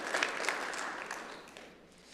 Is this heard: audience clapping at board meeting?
yes